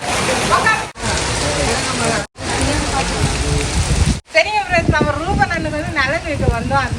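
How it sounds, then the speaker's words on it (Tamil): Heavy rain pours in a dense, steady roar during a downpour in a village, loud and close, with people talking over the rain partway through. "செம மழை."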